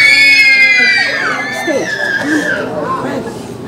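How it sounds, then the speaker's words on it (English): A group of young female performers screams in a children's opera staged at Piqua Central, a loud high-pitched chorus of shrieks that fades into scattered shouts and chatter. "the maidens scream again and they retreat upstage"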